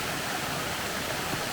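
Waterfall in Loyalsock State Forest, Pennsylvania, a steady broadband rush of falling water, constant and moderately loud with no breaks or other sounds.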